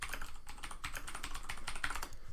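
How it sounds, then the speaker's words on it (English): Clicky computer keyboard typed rapidly and steadily, crisp close keystrokes forming a dense continuous patter with no voices. "My clicky keyboard, I'm sure, is making everyone just so happy."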